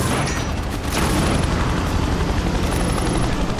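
Helicopter in the video game Prototype, a loud, steady rotor and engine drone filling the whole moment with a dense low rumble, with no talk over it.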